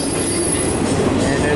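A long freight train rolls steadily past close by, a DPU locomotive mid-train, with a continuous loud rumble of wheels and rail noise and faint squealing throughout.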